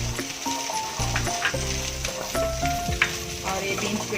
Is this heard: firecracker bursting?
no